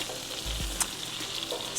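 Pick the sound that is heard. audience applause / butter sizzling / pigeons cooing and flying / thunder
butter sizzling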